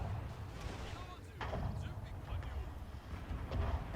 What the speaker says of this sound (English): Looks like our artillery has done great work through the forest here